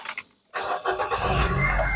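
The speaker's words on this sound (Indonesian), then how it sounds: "Sekarang kita coba start mobil." A 2010 Nissan Grand Livina 1.5 XV manual car engine starting: a brief click, a half-second pause, then the engine catches and settles into a steady idle, close and fairly loud.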